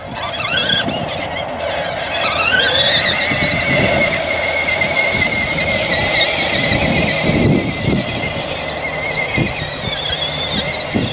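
An electric ride-on four-wheeler powered by a DeWalt 20V battery drives close by, its motor whining and rising in pitch as it speeds up, while wheels crunch and rattle over the ground.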